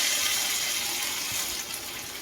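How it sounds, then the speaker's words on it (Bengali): Hot water pours steadily into a pan of duck egg curry, a continuous hissing splash that runs unbroken and fairly loud for about two seconds, with no voices over it. "গরম জল বসিয়ে দিয়েছিলাম, সেই গরম জল রান্নার মধ্যে দিয়ে দিই"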